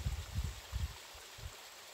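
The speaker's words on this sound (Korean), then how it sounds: "물소리가 시원시원하네" A mountain valley stream in Bukhansan National Park's Cheongsu Valley flows steadily, a continuous broadband rush of water with soft low gurgles pulsing beneath, close and moderately quiet, with no voices.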